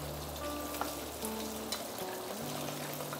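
Steady crackling sizzle of fish deep frying in a non-stick pan, close and continuous, with faint tonal hum in the background and no speech.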